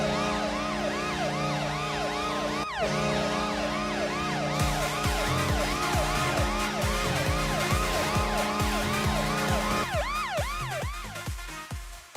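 An emergency siren blares as a breaking-news sound, loud and unbroken. A long rising tone gives way to a fast repeating wail, with a brief low electronic tone underneath.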